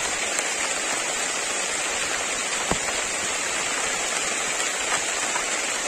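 Steady, heavy rain falls outdoors during a cycle ride through a jungle, a loud, even wash of drops with no talk.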